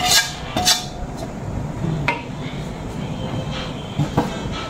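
A metal utensil clatters and scrapes in a cooking pan as kikiam, vegetables and other ingredients are mixed together, sharp irregular clinks up close over a steady background rumble.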